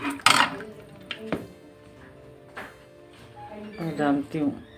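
A ladle scrapes and knocks against a home cooking pot while stirring dal makhani, giving scattered metallic clinks and scrapes between pauses, with someone talking over parts of it.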